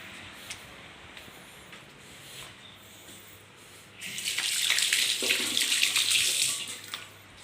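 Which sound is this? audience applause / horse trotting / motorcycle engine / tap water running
tap water running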